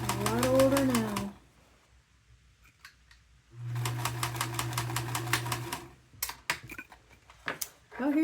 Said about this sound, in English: Y'all hear that clicking in this machine?